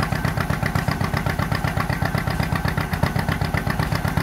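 An antique tractor engine starts and settles into a loud, steady idle at an antique machinery show, its rapid even chugging filling the whole clip without any voices.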